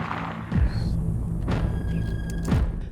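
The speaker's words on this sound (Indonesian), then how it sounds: "tembakan pertama Lon Scott meleset" Sniper rifle shots in a film scene, three deep booming thuds about a second apart over a low rumbling bed, with no talk.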